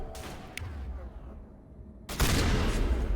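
Loud, booming shotgun blasts from the video game Mass Effect: one burst near the start, then a heavier roar that hits suddenly and keeps going to the end.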